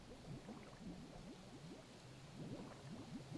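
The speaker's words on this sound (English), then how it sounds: "Do you hear that bubbling noise?" Faint, continuous bubbling water ambience in the city-builder video game Kingdoms Reborn, a soft stream of small gurgling pops running steadily throughout without speech.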